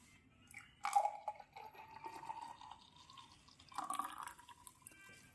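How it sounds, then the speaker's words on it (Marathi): Milk poured and strained at home as a base for a homemade body lotion: a soft trickling, dripping pour with a brief splash near the start and another near the end, close and quiet, with no talking. "आणि इथं आपलं हे दूध, तर मी याच्यात ओतून घेते"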